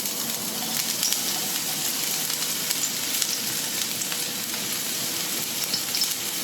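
Spring onions sizzle in heated oil in a pan, a steady close hiss with small crackles and pops running evenly throughout, with no talk over it.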